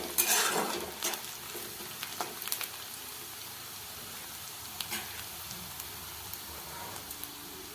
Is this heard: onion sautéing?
yes